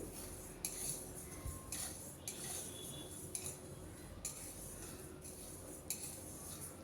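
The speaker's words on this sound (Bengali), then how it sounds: "প্রথমে শুকনো কড়াইতে ভেজে নেব" Moong dal being dry-roasted in a dry kadai, stirred constantly: faint, rhythmic scraping and clinking strokes of a utensil against the metal pan, about once a second, in a quiet room.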